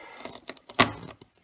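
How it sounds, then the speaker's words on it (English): Pig bone cracks while spare ribs are trimmed with a big knife, a few sharp, close snaps and crunches within about a second, the loudest near the end. "that is the sound of pig bone cracking"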